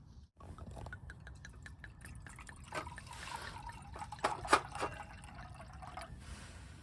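Wine poured from a bottle into a Lego cup outdoors at a stealth camp, a steady close trickle with small drips and splashes, quiet and with no talking.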